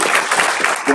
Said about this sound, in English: let's give a hand of applause for Graphite